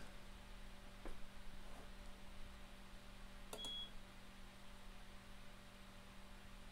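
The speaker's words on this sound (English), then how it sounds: "It's just beeping at me" An IBM InfoWindow 3488 display terminal beeps faintly a few times over a steady low hum, with short chirps spaced apart against quiet background noise.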